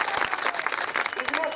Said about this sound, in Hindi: जोरदार तालियां बजाकर स्वागत कीजिएगा।